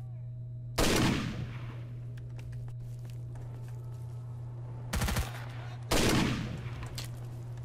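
Bursts of gunfire in S.T.A.L.K.E.R. Shadow of Chernobyl, one long loud volley followed after a pause by two more, all close over a steady low game hum.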